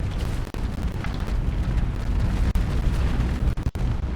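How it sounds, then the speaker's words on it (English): A catastrophic explosion in a modded video game, heard as a loud, sustained roaring rumble lasting about four seconds with a few brief dropouts and no voices. "we would have just witnessed a catastrophic explosion."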